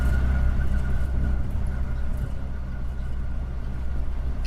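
A car engine in the video game The Storyteller hums as a steady, low idling rumble that stays constant throughout, with no talking over it.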